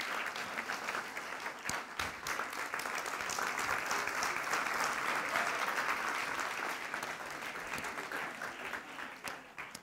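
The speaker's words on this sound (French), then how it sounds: "J'ai 2 personnes qui vont venir me rejoindre dans un instant sous un tonnerre d'applaudissements" Prolonged applause from an audience welcoming two people onto a stage at a talk, dense and steady clapping that swells in the middle and tapers slightly toward the end.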